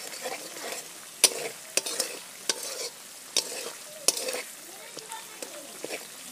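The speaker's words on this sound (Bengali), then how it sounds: "এবার মশলাটাকে সুন্দর করে ভেজে নিই আস্তে আস্তে।" Spice paste fries on low heat in a pan over a clay stove while being stirred. A soft, steady sizzle is punctuated by irregular sharp scrapes and taps of the stirring spoon.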